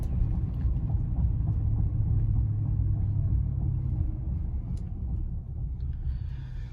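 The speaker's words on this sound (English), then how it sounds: "transition into the pull that I made with some inside the cab noise of the supercharger" Inside the cab of a 2018 GMC Sierra pickup with a supercharged engine and BTR stage 1 cam, a deep, heavy rumble holds steady through a full-throttle pull, low and muffled with faint whine above it.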